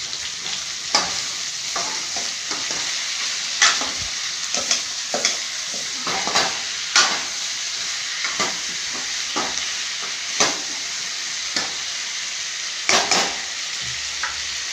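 Vegetables stirred and fried in a pan for a home-cooked lunch, with a steady sizzle broken by repeated scraping stir strokes at an irregular rhythm, close and alone.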